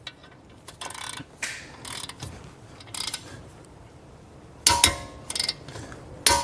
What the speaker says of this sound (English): We're gonna torque these bolts down to 111 foot-pounds